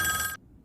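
A short burst of a telephone bell ring cuts off abruptly, leaving near silence.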